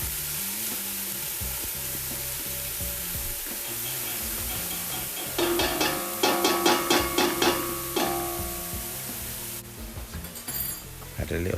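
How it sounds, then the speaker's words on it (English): Chopped onions for a seafood risotto sweat gently in a pan with a soft, steady sizzle, then a run of clinks and stirring scrapes partway through, all close with no one speaking. "So sweat your onions off, nice and gently."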